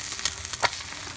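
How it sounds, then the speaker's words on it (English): Eggs fry in a hot pan, making a continuous close sizzle with bubbling pops and a couple of brief sharp crackles. "Let shit just cook. It's already bubbling up."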